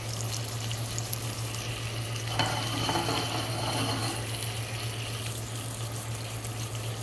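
A burger patty topped with cheddar cheese sizzles on a hot cooking surface as the cheese melts, a steady crackling hiss with a low hum underneath and a brief louder flurry of spatter midway, no talking.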